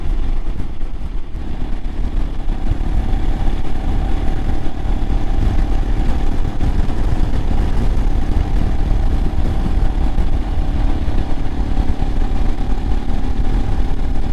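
A 2022 Royal Enfield Himalayan single-cylinder motorcycle with upgraded suspension drones steadily and loudly on a test ride, its engine held at high revs close to the mic without any talk.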